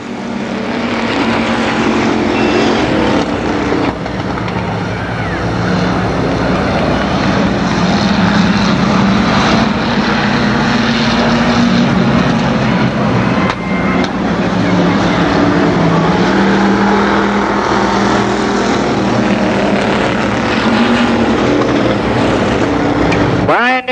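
Stock cars roar around the oval at Columbus Motor Speedway during an 8-lap heat race, engines loud and continuous with rising and falling passes, under an announcer's commentary.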